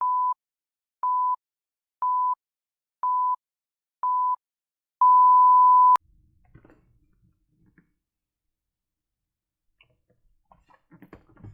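A countdown timer sounds five short, evenly spaced beeps a second apart, then one long final tone that cuts off sharply, leaving near silence with faint scattered noises.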